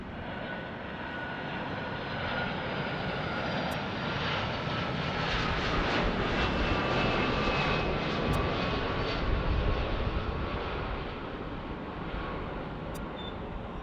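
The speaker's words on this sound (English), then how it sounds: "Let's check out this beautiful United 757" A United Boeing 757 airliner lands at LAX, its engines producing a loud, sustained broadband roar that stays steady and close throughout, with no voices over it.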